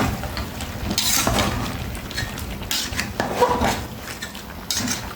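Khichuri is stirred, tossed and turned in a pot, giving repeated scraping and clanking of a spoon against metal in irregular bursts, close and fairly loud with no talk.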